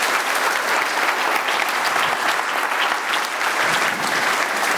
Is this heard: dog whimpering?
no